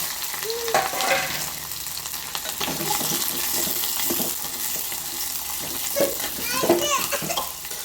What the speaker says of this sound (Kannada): ಇದು ಒಂದು ಸ್ವಲ್ಪ ಈ ರೀತಿ ಫ್ರೈ ಅಂದ್ರಿ ಈಗ ಇದಕ್ಕೆ ಉಳ್ಳಾಗಡ್ಡಿ ಮತ್ತು ಮೆಣಸಿನ್ಕಾಯಿ ಹಾಕ್ತೀನಿ